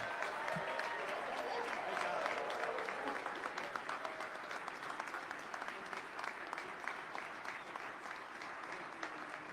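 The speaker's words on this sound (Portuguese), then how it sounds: "erguam-se para aplaudi-lo" Audience at the National Prayer Breakfast applauds as President Donald Trump is introduced, a dense, steady wall of clapping that holds loud and even throughout, with crowd murmur mixed in.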